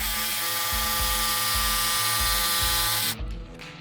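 A jigsaw cuts steadily while pressed down firmly from behind, its buzzing motor running at a constant pitch with a slight pulsing rhythm before the blade stops abruptly near the end.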